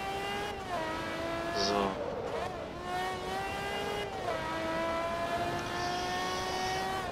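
A racing car engine in the Forza Motorsport 2 game, in a Ferrari versus Lamborghini race, howls steadily through rising gears with shifts and a brief tire squeal, while someone talks over it.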